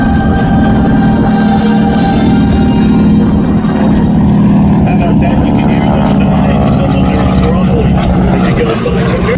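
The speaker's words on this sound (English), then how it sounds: "Here's the C-45 from the left." A Beechcraft C-45 propeller airplane passes at the Wings over Houston airshow with a loud, steady droning engine and prop roar, and an announcer talks over it.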